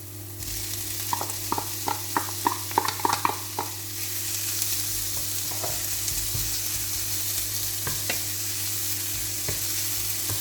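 Bacon lardons drop into a pan for a sauerkraut kougelhopf and sizzle steadily, with a cluster of clattering scrapes and stirs early on, then a continuous frying hiss with occasional knocks.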